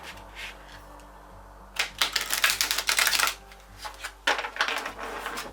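Close, crisp riffling of an oracle card deck in two bursts, rapid papery flutters with a quiet pause between them.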